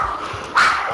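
A dog in the video game Call of Duty DMZ gives a single short bark partway through, sharp and fairly close, with a faint whine and no talk around it.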